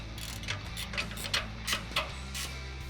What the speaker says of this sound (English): I am using a 14 mil ratcheting wrench on this just because of the space issue.